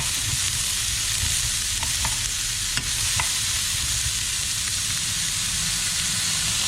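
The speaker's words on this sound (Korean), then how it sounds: "센 불에서 빨리 볶아내야 합니다." Celery stir-fried over high heat in a pan gives a steady, loud, close sizzle and hiss throughout, with a few faint clinks of stirring and no talking.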